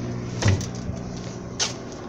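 A maintenance compartment hatch on a Mercedes-Benz O-500UDA articulated bus shuts with a short, close wooden-sounding knock, followed a second later by a second lighter clack.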